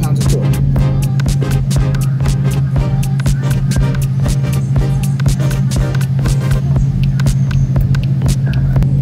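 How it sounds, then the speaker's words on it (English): A 2021 Ford Raptor pickup's 3.5L twin-turbo EcoBoost V6 with loud exhaust: a steady engine drone with a deep low hum and throbbing exhaust, sharp rapid ticking and clicking running through it the whole time. "You can hear the turbos a little bit."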